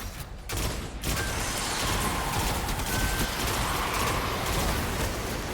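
A pulse rifle in Destiny 2 fires in quick bursts over a busy game soundscape, the shots running together into dense rattling volleys after a brief gap near the start, with no talk.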